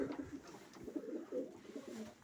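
Domestic pigeons coo softly in a low, repeated burbling rhythm, several birds close by with steady murmuring and no talk over them.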